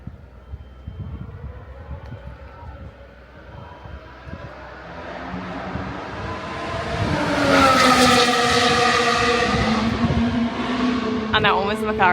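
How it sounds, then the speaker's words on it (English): A McLaren race car at Silverstone passes by, its engine note building from a distant drone to a loud, rising howl up close, then fading. Voices talk faintly underneath early on. "And that one was the McLaren."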